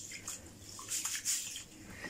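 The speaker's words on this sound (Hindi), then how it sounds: "सिर्फ ये स्टाइल आपने चावल धोने का करना है" Rice being rinsed by hand in a bowl of water, a soft, close swishing and splashing with light trickles that rise briefly midway, heard alone.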